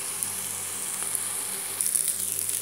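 Eggplant pieces fry in a pan with a little oil and a splash of added water, giving a steady, close hissing sizzle that stays even throughout with a slight rise near the end.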